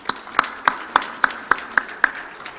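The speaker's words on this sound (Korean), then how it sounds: "박수 한번 쳐드리시죠" A small church congregation at Taebaek Full Gospel Church claps during a deacons' ordination service, about eight sharp, evenly spaced claps that sound close and fairly clear, with no talking.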